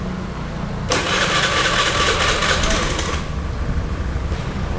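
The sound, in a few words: Honda BeAT scooter engine starting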